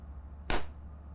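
A single sharp firecracker bang in the horror video game Baby in Yellow, a brief loud crack standing alone over a low steady background hum.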